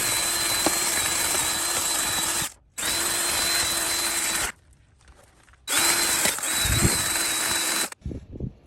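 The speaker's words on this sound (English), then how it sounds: "I use battery-operated drill with wire brush to clean all pistons." A battery-operated drill spins a wire brush against pistons to clean them, three loud sustained whirring bursts separated by short pauses, with faint clattering at the end.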